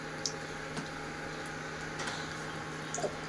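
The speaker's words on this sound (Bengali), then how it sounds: "এই মশলাটা এবার ভেজে নেব" Ground spice paste with a little turmeric frying in oil for a fish and green cauliflower kosha, heard as a soft, steady sizzle with faint scattered pops and ticks and no voices.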